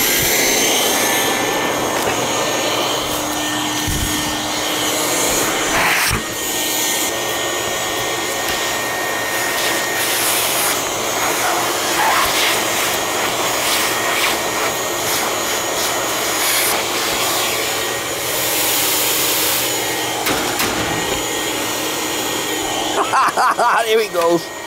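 A vacuum cleaner roars continuously and loudly up close while cleaning crusty mouse debris from an air conditioning system, its high whine steady with brief rattling surges as debris is sucked up; a voice speaks occasionally underneath.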